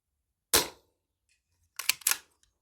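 Daystate Alphawolf air rifle firing outdoors, one sharp crack followed after a pause by two more quick shots, close and alone.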